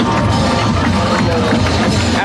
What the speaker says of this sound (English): as the crowd goes crazy.